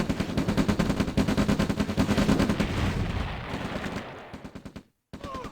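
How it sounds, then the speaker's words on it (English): Rapid gunfire destroying an oil derrick in the OpenRA Red Alert strategy game, a steady stream of close, loud, evenly spaced shots that thins out, breaks off into a brief silence and then resumes. "So now I'm destroying this oil derrick."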